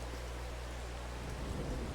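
Rain falls steadily in the video game Farming Simulator 22, a continuous soft hiss of drops with a low rumbling undertone, even and unbroken throughout.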